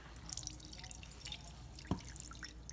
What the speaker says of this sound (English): I'm gonna lift it up and I'm gonna gently kind of squeeze the water out.